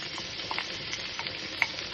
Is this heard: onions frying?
yes